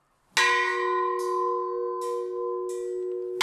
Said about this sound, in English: Scouts were signaled to rotate to the next activity by a Scout leader striking a bell at the chapel